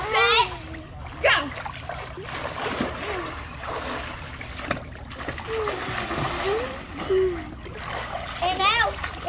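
Children splash and churn the water of an outdoor pool in Florida while doing underwater handstands, with bursts of splashing and trickling mixed with excited kids' voices talking throughout.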